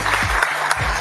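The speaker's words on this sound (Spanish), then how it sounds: "Un aplauso." Short burst of audience applause at a public address by Nayib Bukele, dense clapping lasting about a second with a low voice faintly beneath it.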